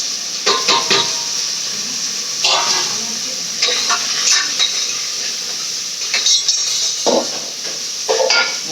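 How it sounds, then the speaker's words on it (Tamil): Masala fries for a fish curry in a pan, with a steady sizzle running throughout. Repeated clinks and scrapes of a spoon stirring against the pan come in irregular bursts, close and fairly loud. "எல்லாம் வதங்கட்டும்."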